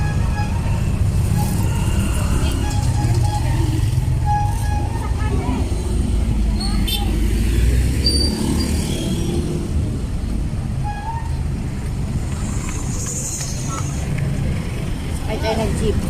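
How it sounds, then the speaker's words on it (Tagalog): Steady rumble of a jeepney moving through city traffic, with engine drone and road noise filling the ride and other vehicles passing nearby, while voices chatter faintly in the background throughout. "Ay tayo nag-jeep."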